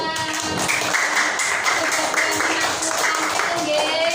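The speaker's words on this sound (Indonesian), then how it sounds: "Sekali lagi tepuk tangan." Elementary schoolchildren clapping together in a classroom after a science experiment, dense rhythmic clapping throughout at close range, with children's voices chattering over it.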